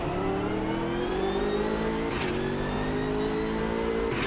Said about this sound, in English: I can hear that turbo there.